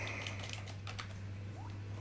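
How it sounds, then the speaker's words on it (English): Faint computer keys clicking in a few scattered, light taps over a steady low electrical hum, quiet and close with no talking. "It's funny, I hear somebody clicking on things."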